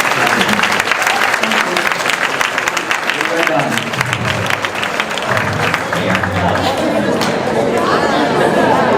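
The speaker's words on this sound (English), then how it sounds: "Round of applause." At the close of a school board debate in Sarasota, an audience breaks into sustained applause that carries on steadily, with crowd chatter and a voice speaking over the clapping.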